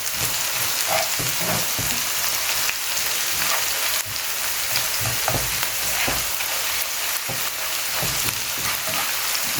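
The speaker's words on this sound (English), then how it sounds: "We don't want the garlic or the onion to get burned, so we stir it." Onion and garlic fry in a pan for a Jamaican-style coconut curried chicken, giving a dense, steady sizzle with repeated stirring scrapes and clinks, close and loud.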